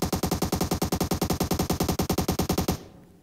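Automatic gunfire in the mobile battle-royale game PUBG Mobile comes as one long, loud, rapid burst of evenly spaced shots. It stops abruptly near the end, leaving a short fading tail.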